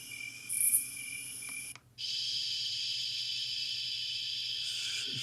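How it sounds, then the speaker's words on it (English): A Lielongren white noise alarm clock plays a looping cricket recording: continuous high-pitched chirping over a low hum, broken by a brief cut near two seconds before the chirping resumes steadily. "Pretty sure I found the looping of that cricket one already"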